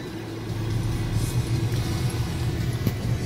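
A car engine under a learner driver's light throttle, a steady low rumble that swells slightly as gas is given, heard from inside the vehicle without talk.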